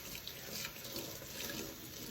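A kitchen tap runs steadily into a sink while fresh coriander is rinsed under it, a soft, continuous hiss of falling water with faint splashing and no talking.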